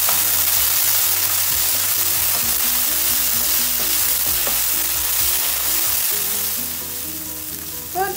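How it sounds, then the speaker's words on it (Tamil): Chopped coriander, mint and fennel powder sauté in hot oil in a pan for a restaurant-style dragon fish dish, a loud, close, constant sizzle broken by stirring strokes, easing off slightly near the end; no talking. "ரெண்டு நிமிஷம் நல்லா வதக்கி எடுத்துக்கிட்டோம்"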